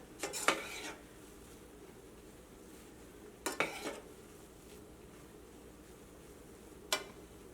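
A spoon scraping and knocking against a pot while stirring soya chunks in water over a low flame, three short clattering bursts spaced a few seconds apart against a quiet background.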